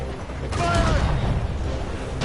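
Ship cannons fire in a naval battle in the video game Assassin's Creed Rogue, a loud, dense rumbling barrage of booms with shouting voices and battle noise.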